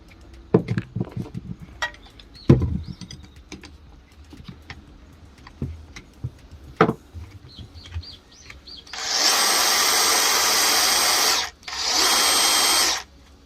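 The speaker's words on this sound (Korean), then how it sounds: "목재를 한번 뚫어 보겠습니다" A DeWalt DCD460 drill with a 2-inch self-feed bit boring into wood. Scattered handling knocks come first, then two loud sustained bursts of close, steady drilling separated by a short pause.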